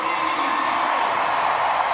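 Stadium crowd at the London 2017 World Para Athletics Championships cheering a Great Britain runner in the men's 1500m T20 final, a loud sustained roar of many voices holding steady throughout.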